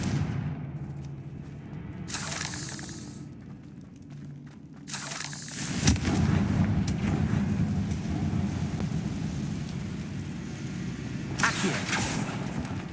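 A Confringo explosive spell blasts in Hogwarts Legacy, a loud burst rising out of a game soundscape with a low rumbling tail, followed by a later sharp crackle, with speech over parts.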